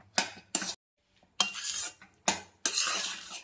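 A spoon scrapes and stirs a sweet mixture with cardamom powder in a pan, in five short, close metallic bursts separated by brief silences.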